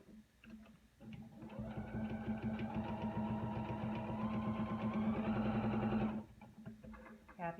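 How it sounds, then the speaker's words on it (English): A threaded sewing machine starts sewing, its needle running in a rapid, steady mechanical chatter for about five seconds, close and fairly loud, then stopping abruptly. "Needle threaded. It's in the take-up lever. Now let's start to sew."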